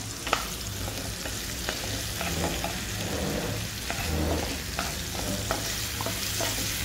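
Onion, tomato, green chili, ginger, garlic and cumin masala roasting in a pan, a steady close sizzle broken by repeated scraping stirs and light clinks of a spoon, with no talk.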